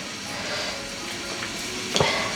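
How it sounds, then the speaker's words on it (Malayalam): Water boiling in a cooking pot gives a steady close bubbling hiss that runs through the whole stretch, with one short clink near the end. "വെള്ളം തിളച്ചിട്ടുണ്ട്"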